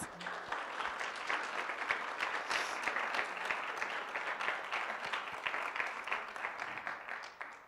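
Audience applause at a guide dog graduation ceremony, a steady, dense wash of many hands clapping that holds evenly for several seconds without anyone speaking over it.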